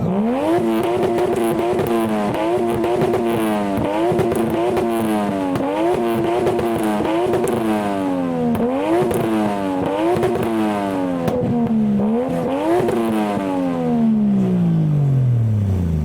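Toyota Chaser JZX100 with a 1JZ engine revs repeatedly, climbing and dropping in rapid, rhythmic bursts that end in one long falling decay, loud and close with no talk.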